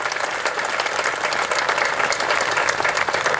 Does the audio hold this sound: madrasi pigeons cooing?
no